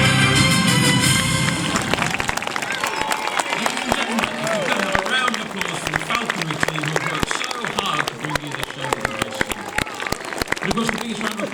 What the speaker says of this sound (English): the biggest round of applause should go to the birds who have performed so wonderfully for you today